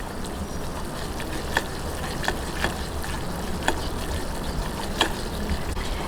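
All-purpose flour cooking in a frying pan for a lasagna sauce: a steady close sizzle with occasional soft ticks and scrapes, moderately loud and unbroken.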